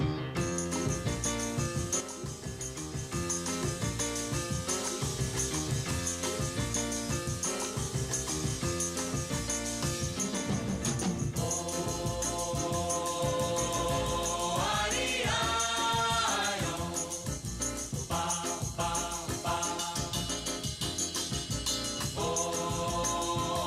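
A song recording, a continuous full-band arrangement with sustained melodic lines, heard alone without talking.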